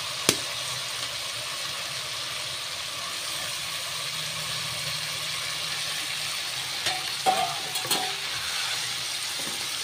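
Meat stirred in a pot of haleem, a steady low sizzle of cooking underneath with a sharp clank near the start and a cluster of scraping and knocking strokes toward the end, close by, without speech.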